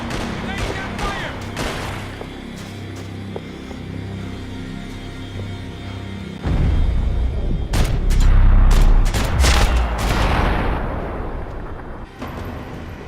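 Gunfire and heavy impacts in the Max Payne 3 video game, a busy stretch of shots and booms that surges louder partway through, with sharp bursts over a rumbling low end.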